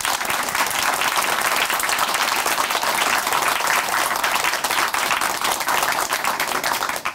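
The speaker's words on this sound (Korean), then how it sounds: "우리 다시 한번 응원의 박수 보내드리겠습니다" Studio audience applause on a Korean Christian church television programme, a loud, dense, continuous clapping from many people that stays even throughout.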